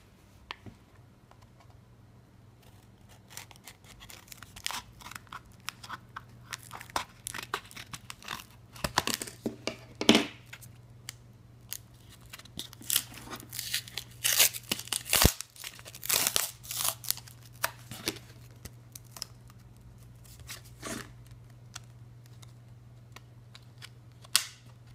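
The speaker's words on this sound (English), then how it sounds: "Let's unbox it." A Samsung EVO 64GB microSD card package being opened, with scattered crinkles, clicks and snapping plastic close by over a faint steady hum, busiest in the middle stretch, with no talking.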